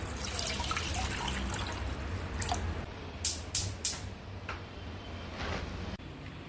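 Water trickles and splashes into a metal pressure cooker on the stove, with a few brighter drips and clinks, close up and fairly quiet.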